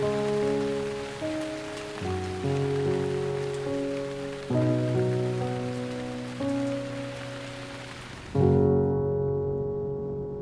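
Rain falls steadily on surfaces during a rainy mid-autumn day in Hong Kong, a continuous hiss beneath sustained musical tones that shift in layered chords.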